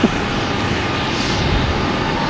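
A large jet airliner takes off at Boston Logan Airport, its engine roar a steady, broad rumble that holds loud and unbroken through the whole stretch, heard from the ground nearby.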